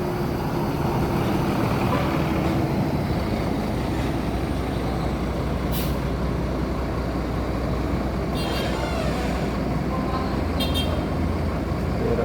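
A Jet Bus 2 coach of the Sumsel Pariwisata fleet, number 068, passes in loud roadside traffic with a continuous engine roar and brief horn toots partway through.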